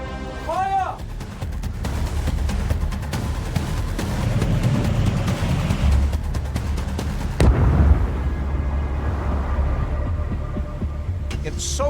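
Torpedoes strike the battleship Royal Oak: deep, heavy booms and a sustained low rumble roll through a tense, droning backdrop, with a sharp blast partway through.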